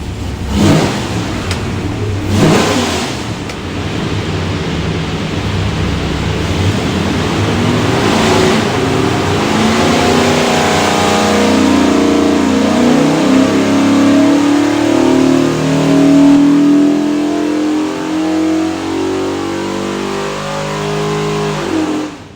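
A 430 hp 347-cubic-inch Ford stroker V8 with a hydraulic roller cam and front-sump oil pan roars on an engine dyno, climbing in pitch through a long sustained pull before easing off at the end.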